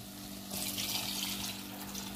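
Water pours steadily into a cooking pot with a soft, continuous rushing that swells after the first half-second, with no voices present.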